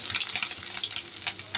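Amudi fish frying in a pan make a brief, steady sizzle broken by soft scraping from stirring, heard close and alone.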